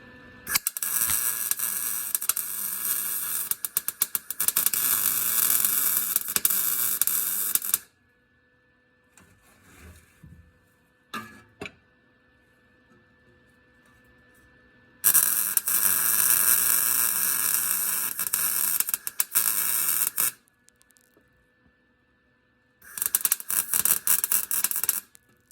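A new exhaust on a 2005 Ford Ranger is welded in loud buzzing, crackling bursts of several seconds each, separated by quiet gaps with a faint hum and a few clicks, and no talking.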